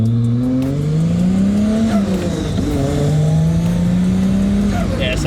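A turbocharged 4.0L Intech six in an AU drift car runs at 5 PSI boost, engine droning loud and steady with pitch rising and falling through revs; voices talk faintly underneath.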